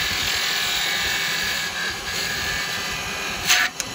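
A woodturning tool cuts wood on a lathe, giving a steady, close whirring scrape that runs unbroken, with a brief sharper catch near the end.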